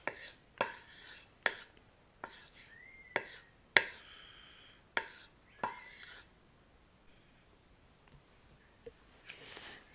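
A spoon mixing ghugni, Bengali yellow peas, with potatoes and masala in a pot: soft, close scrapes and taps in an irregular rhythm, quiet and heard alone.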